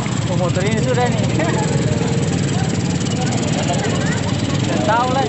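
Motorcycle fitted with a loud racing exhaust, engine droning and revving steadily and close up, a continuous rough roar with fluctuating pitch, with people talking over it.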